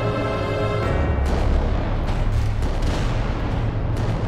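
Cannon fire sound effect for an Adeptus Titanicus tabletop game: a loud, dense barrage of booming blasts rolling on continuously with heavy low rumble and sharp cracks, no talking.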